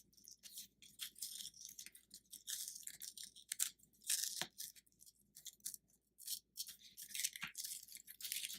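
Masking tape is peeled slowly off paper on a pop-up bird greeting card, giving a series of quiet, crackly tearing bursts in short irregular pulls with brief pauses between them.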